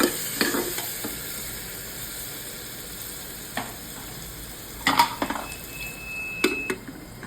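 Tomato and spice masala sautéing in a pan for a simple moong dal, a steady low sizzle under occasional spoon scrapes and stirring clatter, with a few louder knocks near the end.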